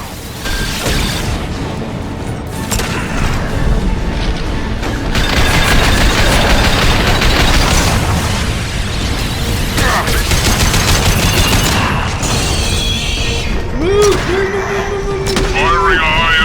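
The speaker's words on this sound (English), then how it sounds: "Firing a high impact shot. Attacking target. Firing anti-ship batteries at collector vessel." Anti-ship battery cannon fire in Mass Effect 2, a dense continuous barrage of heavy booming shots aimed at a Collector vessel, loud and sustained under a full game soundscape.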